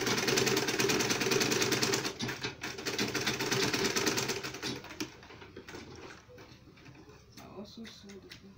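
A sewing machine stitches a double compartment purse bag, a fast rapid ticking drone that runs steadily and then breaks into shorter, quieter runs, with someone talking over it.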